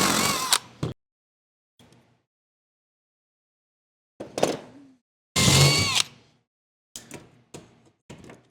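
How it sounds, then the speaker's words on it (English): A power drill bores holes through a metal van roof while fitting a Ventline VanAir powered vent. Several short, loud bursts of drilling are separated by stretches of near silence. "I'm gonna start drilling holes here"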